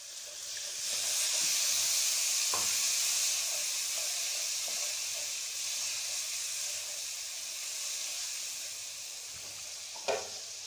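Ginger garlic paste with turmeric sizzles and hisses in hot oil as a splash of water hits the pan for daal maash, a loud steady frying hiss with brief stirring clicks and no talking.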